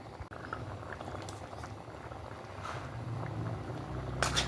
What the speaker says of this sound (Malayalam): ഇനി നന്നായി തിളച്ച് വരട്ടെ.